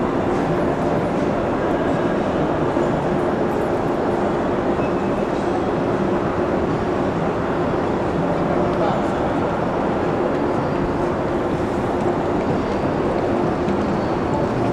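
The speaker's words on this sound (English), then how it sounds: "This is the train station" A dense, constant rumble of the busy main hall of Milan's train station, with distant mechanical drone and murmuring crowd filling the space, loud and steady throughout.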